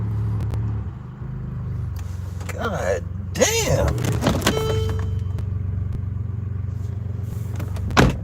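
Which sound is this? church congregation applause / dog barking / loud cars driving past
loud cars driving past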